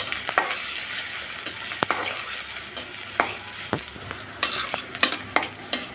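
Green chillies and chopped onion fry in hot oil in a wok with a soft continuous sizzle, while a spatula scrapes and clacks against the pan at irregular moments, close and clear.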